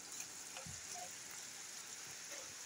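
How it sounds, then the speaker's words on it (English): A steady, faint hiss of rain falling, with a few scattered drips and no talking. "Got a lot of rain and fall right now, you know."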